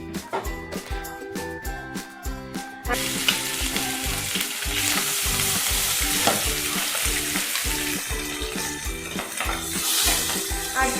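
Small pabda fish frying in hot salted oil in a wok, a loud, dense, continuous sizzle that swells after the first few seconds, with stirring and occasional clatter of the pan, no talk.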